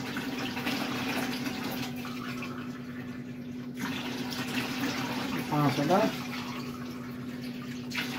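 Water is poured by the glassful into a cooking pot while making pulao, with a low steady running splash. Someone talks over it throughout, and a brief louder pour sounds near the end.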